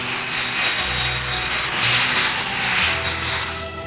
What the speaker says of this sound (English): The astonishing Hawker P1127s show their versatility by taking off first from a concrete runway and then from the soft grass verd.